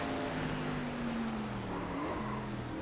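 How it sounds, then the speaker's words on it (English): Race car tires lock up under braking in the iRacing sim at Rockingham, giving a drawn-out tonal squeal over a steady engine roar that holds loud and close for a few seconds. "We locked the tires up a little bit, but we're good"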